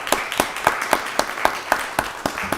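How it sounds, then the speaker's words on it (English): Applause from a county board of commissioners meeting audience, a short burst of evenly spaced claps ringing out in a hall, with no talking. "Let's give the work a round of applause."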